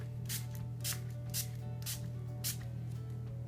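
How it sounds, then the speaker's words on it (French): Short bursts of Make Up Forever Mist and Fix setting spray, five quick spritzes spaced roughly half a second apart, close and fairly soft over a steady low hum. "De Make Up Forever, le spray Mist and Fix."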